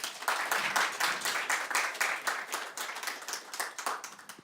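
Applause from a conference audience at a crypto event, steady dense clapping filling the room throughout, close and fairly loud with no voices over it.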